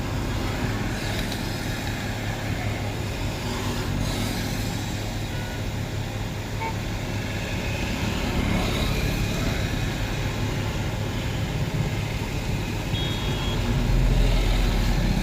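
Game vehicle engine drones steadily while driving in Hill Climb Racing along a dangerous road with water in the middle and a broken side gate, a continuous motor hum rising slightly louder near the end, with no talk.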